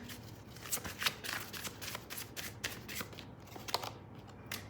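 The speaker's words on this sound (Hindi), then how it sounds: "चलिए और भी कार्ड्स लेते हैं।" Tarot cards shuffled and drawn during a reading: a steady run of soft papery riffles and flicks with several sharper card snaps, close and fairly quiet, with no talking.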